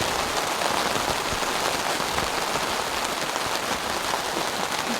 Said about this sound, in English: It really is coming down, and it's so loud.